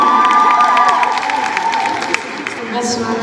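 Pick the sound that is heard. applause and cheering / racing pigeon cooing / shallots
applause and cheering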